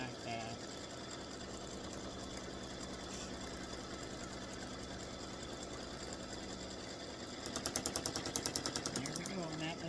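Embroidery machine stitching a tack-down run over quilt batting, rapid steady mechanical chatter throughout, with a louder burst of clattering stitches near the end.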